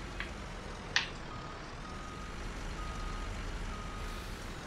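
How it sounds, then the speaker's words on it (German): A truck in Farming Simulator 19 stopping, with a brief hiss of air brakes and a thin, steady reversing beep under continuous engine rumble. "Der LKW hat ein bisschen eine lange Bremsweg."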